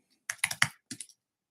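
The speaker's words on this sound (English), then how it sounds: "So I'm typing in 6-meter rule water polo." Short burst of typing on a computer keyboard, about six or seven crisp, close key clicks in a quick uneven rhythm, then silence.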